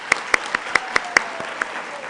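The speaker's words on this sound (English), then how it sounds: "Summer Stoller, let's give her a round of applause." A few people clap in a sparse, sharp rhythm, roughly eight distinct claps close by that fade out quickly.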